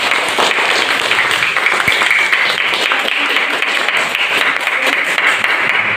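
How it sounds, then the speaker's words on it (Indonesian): Applause from a group of students in a classroom, steady clapping throughout with no pauses. "tepuk tangan buat 5"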